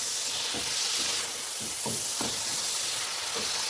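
Mutton sizzling loudly as it is stir-fried in a pot over high heat, a steady hiss with scraping stirs every half second or so, close and alone.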